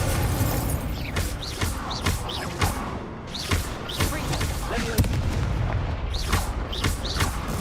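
Incendio fire spell cast repeatedly during a Hogwarts Legacy duelling tournament: a rapid series of sharp, booming magical blasts and whooshes at close range, layered over a continuous din of combat effects with no pause between hits.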